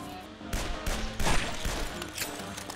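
Gunfire from a handgun in the zombie video game Guns, Gore & Cannoli, a dense run of loud, sharp shots packed close together over busy game sound.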